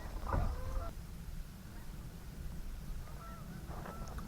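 Geese honk at a campsite near water around sunset, a burst of loud overlapping calls at first, then quieter scattered honks later against an outdoor background hum.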